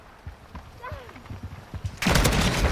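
Gunfire from a first-person shooter video game played on a controller, a dense burst of rapid shots erupting loud and close near the end, following quieter game sounds with a voice talking throughout.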